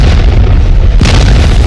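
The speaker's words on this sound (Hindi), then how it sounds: "अमेरिका की वायुसेना ने बड़े धमाके किए" Bomb explosions from US and Afghan air strikes on Taliban targets, a loud continuous booming roar with a fresh heavy blast hitting about a second in, no voices.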